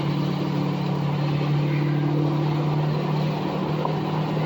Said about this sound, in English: Man, this truck sounds good.